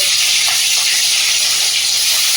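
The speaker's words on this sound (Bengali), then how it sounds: "মাছটা ভেজে নেব।" Fish frying in a hot kadai, a steady loud hiss of oil sizzling throughout with faint clinks near the middle and no talk.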